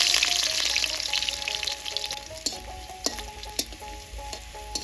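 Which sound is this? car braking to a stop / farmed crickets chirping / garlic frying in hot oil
garlic frying in hot oil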